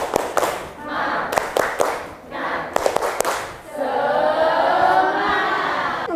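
A classroom of students doing a rhythmic spirit clap, several sharp group claps in bursts alternating with chanted voices, then sustained group chanting and talk.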